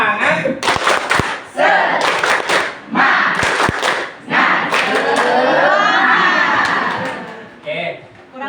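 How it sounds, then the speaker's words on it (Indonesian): Classroom group of elementary school teachers doing a rhythmic clapping chant, sharp hand claps in bursts mixed with loud shouted voices and crowd noise, close and energetic. "Pertama duduk dulu, kita tepuk semangat ya."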